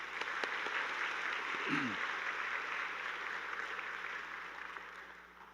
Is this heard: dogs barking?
no